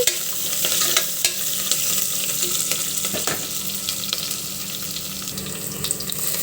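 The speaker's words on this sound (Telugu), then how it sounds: "ఆనియన్, కరివేపిల అన్నీ వేసుకున్నా. మిక్స్ చేసి ఫ్రై చేసి" Chopped onion and curry leaves fry in a pan with a steady, fairly loud crackling sizzle, broken by scattered clicks and scrapes as the mixture is stirred.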